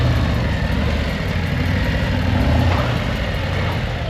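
A 2024 Harley-Davidson Road Glide with stock exhaust idles steadily up close, a loud, even, low rumbling throb with a fast regular pulse and no talking.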